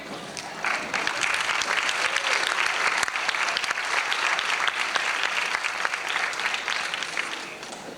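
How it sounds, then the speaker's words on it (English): Sustained applause from a large crowd, steady and loud for several seconds after a brief quiet start. "Let's give everybody a big round of applause for coming out tonight."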